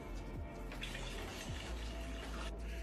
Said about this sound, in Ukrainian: доливаємо воду до 10 літрів в ємності.